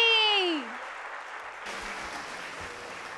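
An audience at a Punjabi stage comedy show breaks into loud sustained applause for a performer from Amritsar, following a brief musical sting.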